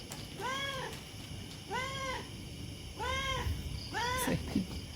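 A cat at a night market gives four evenly spaced meows, fairly close and clear, over faint background market noise.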